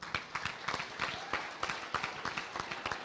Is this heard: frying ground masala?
no